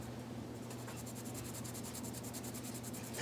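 A pencil rubbed quickly back and forth over paper laid on wood, a fast steady scratching rhythm heard close up over a low hum, with no talk.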